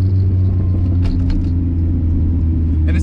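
A loud, deep exhaust rumble from a 1999 Mazda Miata NB with catalytic converters fitted idles steadily up close, thick and throbbing throughout.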